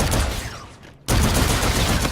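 Full-auto R3KT assault rifle firing in a video game: a dense, continuous burst of rapid shots, loud and close, briefly breaking off near the middle before resuming at full intensity.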